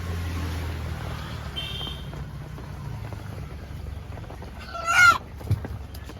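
A country chicken squawks loudly in a sudden burst as it is caught, followed by a short low thump, against a steady background hum.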